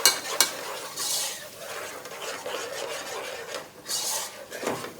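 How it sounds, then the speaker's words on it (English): Yogurt being mixed into a Bengali chicken korma in a pot makes repeated rasping, scraping strokes of a spoon against the pan, with two sharp clinks at the start, close-up and with no talk. "Give it a nice mix."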